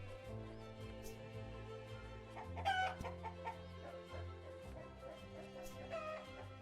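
Chickens cluck a few times in the video game Summer in Mara over steady looping background music, with a couple of louder clucks standing out.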